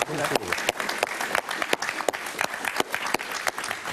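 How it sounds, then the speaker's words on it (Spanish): Live audience at a talk by a host breaking into applause, dense rapid clapping with sharp individual claps standing out, sustained and fairly close throughout. "Un aplauso para Carlos."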